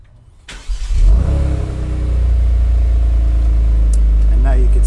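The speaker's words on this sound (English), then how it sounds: "we're going to go ahead and we're going to start the car again" A 2022 Genesis G70 starts up with its exhaust valves open, a starter crank followed by the engine catching and a loud flare before settling into a deep, steady idle; a voice speaks briefly near the start.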